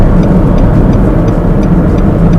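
A 2018 Nissan March 1.2 E hatchback drives along with a steady, loud engine and road drone from inside the cabin, constant throughout with no voices.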